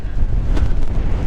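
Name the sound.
gusty wind on the north Cornwall coast path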